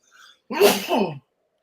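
One close, sharp sneeze from a man on a sports talk show, a short breathy intake followed by a loud burst that stops abruptly.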